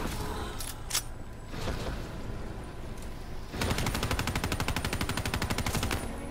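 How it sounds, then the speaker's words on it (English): Zombies get gunned down in Black Ops 3. A few scattered single shots come first, then a sustained, rapid automatic burst rattles steadily and loud at close range for several seconds. "I'm shooting zombies right here"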